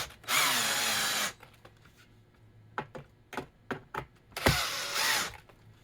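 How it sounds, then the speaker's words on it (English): A power drill drives short screws into wood, two loud, close bursts of whirring about a second each, separated by a few sharp clicks and taps of the bit and workpiece. "Need to get that torque limiter off to get them in."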